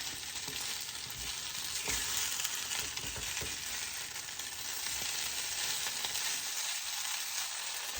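Steady crackling sizzle of breaded okra frying in hot oil in a skillet, with a few sharper pops scattered through; close and continuous, no voices.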